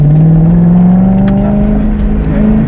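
A Cobra Daytona replica accelerates hard on an autocross course, its engine note climbing steadily as it revs, loud and close throughout.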